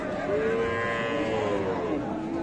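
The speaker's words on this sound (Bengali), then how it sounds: "এই যে ষাঁড় বাচ্চা" A Sahiwal cow and her bull calf low at a cattle market, Ambari haat in Dinajpur: one drawn-out, rising-and-falling moo close by over steady crowd murmur, with no clear talk.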